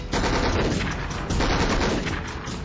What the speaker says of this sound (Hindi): फायर बेस से दुश्मन के इलाके में लगातार फायर किया जा रहा था।